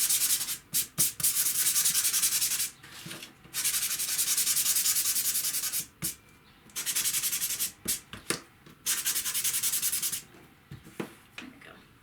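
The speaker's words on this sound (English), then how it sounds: "Let me sand that." Sandpaper rubs briskly over a painted strawberry design on a craft surface in repeated back-and-forth strokes, close and clear, broken by short pauses.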